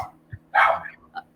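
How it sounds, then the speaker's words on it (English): A dog barks a few times nearby, one sharp loud bark followed by a couple of shorter, softer yips, with no talking over it. "my dog is barking"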